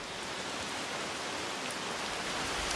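Steady rain falls in a rainforest, an even, dense hiss of drops on leaves that stays soft and constant throughout.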